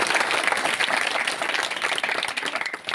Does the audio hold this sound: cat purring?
no